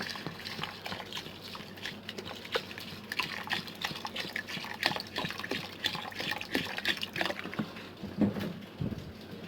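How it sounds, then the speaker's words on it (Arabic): Water pouring steadily into a pot of spiced rice, a continuous rushing splash that lasts several seconds and swells slightly near the end. "هسه حبايبي راح اضيف المي، والمي لازم يغطي التمن"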